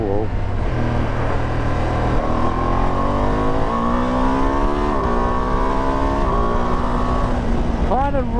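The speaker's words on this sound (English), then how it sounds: "You lose a bit of revs at the end there" A 2025 Ducati Multistrada touring motorcycle engine accelerates and revs hard through several rising sweeps, its tone climbing steadily and dropping back between pulls, loud and close with no talk over it.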